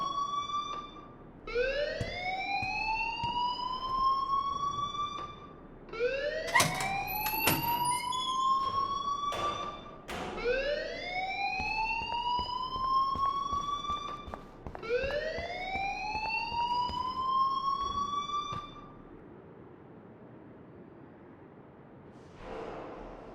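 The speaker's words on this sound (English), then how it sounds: "please turn off that alarm since that's your job." A fire alarm in the video game Life is Strange sounds in loud, repeated rising wails, about five sweeps spaced several seconds apart, then stops, leaving quiet room tone.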